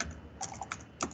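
Several quick computer keyboard keystrokes, typed while entering a Python command, come in a short irregular cluster at close range with no talking.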